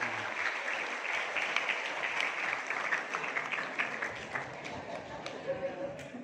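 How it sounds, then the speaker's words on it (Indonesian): Steady applause from a crowd at a school gathering of the Mojokerto region, filling the whole stretch as a dense, even patter of many hands, with someone speaking faintly underneath. "Tepuk tangan untuk kita semua."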